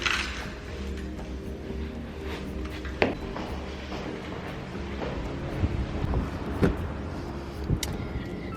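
Steady wind rushing and buffeting against the microphone, with a few soft thumps and knocks scattered throughout, heard outdoors before getting into a car.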